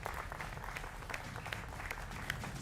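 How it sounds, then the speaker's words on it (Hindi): Studio audience at a televised political debate show applauding to welcome guests, a soft, steady patter of clapping heard at a distance for a couple of seconds. "मेरे युवा मित्रों का जोरदार तालियों के साथ अभिनंदन है"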